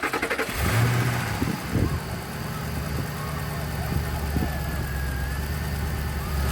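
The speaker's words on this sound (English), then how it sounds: "So now we're going to start the car on." A 2006 Ford Mustang GT with a newly replaced mass air flow sensor cranks and fires. A brief rev follows, then it settles into a steady, loud, close idle rumble.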